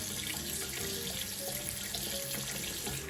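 Hot water runs steadily from a tap into a sink during a shave, a constant, fairly quiet splashing stream with no voices.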